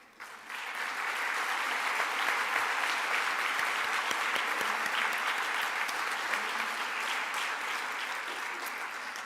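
Sustained audience applause at the ACM ICPC World Finals 2017 opening ceremony, rising quickly after a brief start and holding steady and dense for several seconds, a large room of hands clapping without talk.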